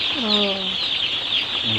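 Chickens on a poultry farm cluck close by in quick, rising calls layered over a constant background din of many birds.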